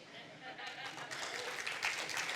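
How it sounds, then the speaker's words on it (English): Audience clapping in a church sermon setting builds from scattered hands into fuller applause, fairly faint and somewhat distant, with speech running over it. "Don't clap yet."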